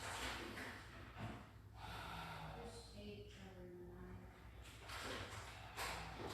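Slow, deep breaths during a lower-body yoga stretch, close and audible, with long airy inhales and exhales through the nose and a faint voice murmuring partway through.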